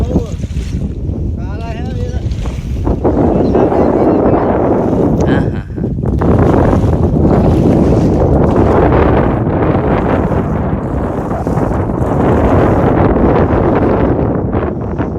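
A small canoe moves across water amid heavy wind rumble buffeting the microphone, with people talking over the steady noise.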